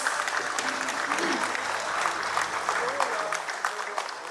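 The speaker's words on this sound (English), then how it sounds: "A huge round of applause." A large outdoor crowd applauding loudly at the opening of the Niathu Sports Festival 2025 in Dimapur, dense sustained clapping with faint voices and cheering mixed in.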